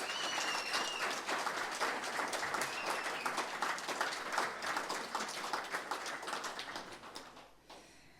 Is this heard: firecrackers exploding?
no